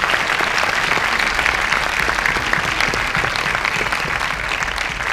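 Audience applause at the closing of the Cinebanlieue film festival, a dense, sustained roar of many hands clapping in a hall, loud and even for about five seconds.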